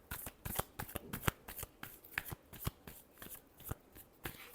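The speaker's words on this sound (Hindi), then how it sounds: "Last shuffle." Tarot cards being shuffled by hand in a quiet room, a run of crisp, rapid riffling flicks and snaps in an uneven rhythm, close and fairly soft.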